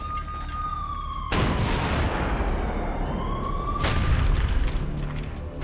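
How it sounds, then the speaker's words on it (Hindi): Heavy blasts from a Hamas rocket strike destroying an Israeli tank in news footage, two loud booming impacts a couple of seconds apart over a wailing siren-like tone. "यह हमास का इजराइल पर रॉकेट से प्रहार है, जिसमें इजराइल का टैंक तबाह हो गया।"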